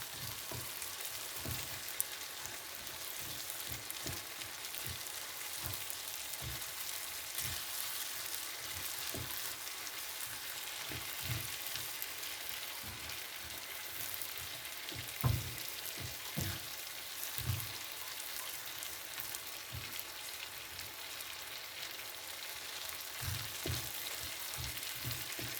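Shrimp ramen simmering in a pan, giving a steady close sizzle and bubbling hiss with small irregular pops and clicks throughout, no voices.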